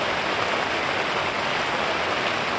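Steady rain falling over a campsite, a dense, even hiss with no gaps and no voices, loud and close throughout.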